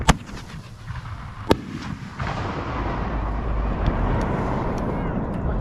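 Fireworks at a Fourth of July party, two sharp bangs early on, then a sustained loud roaring crackle as another firework keeps burning, with people talking.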